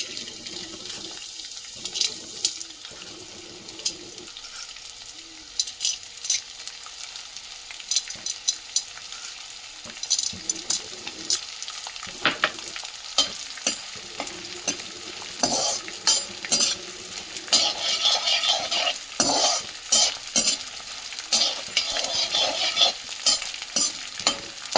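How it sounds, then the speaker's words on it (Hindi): Edible gum (gond) is roasted a little at a time in hot ghee, giving a bubbling, crackling sizzle that grows busier and louder, with frequent stirring scrapes and clinks and no voices. "अब मैं थोड़ा थोड़ा करके इसमें गोंद को भूनूंगी"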